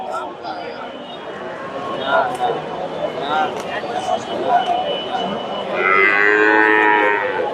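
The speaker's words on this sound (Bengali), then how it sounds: "এটাও মাশাআল্লাহ বিগ সাইজের একটা গাভী, ফ্রিজিয়ান।" Friesian dairy cows low loudly and repeatedly at a busy cattle market in Bogura, with crowd noise and voices talking throughout and one long, strong moo near the end.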